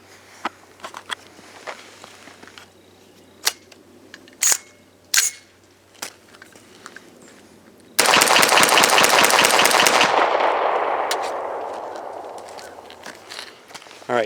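A CMMG Guard 45 pistol fires Speer Gold Dot hollow points outdoors: scattered clicks and handling knocks, then a rapid string of loud, close shots over about two seconds that rings out into a long fading tail.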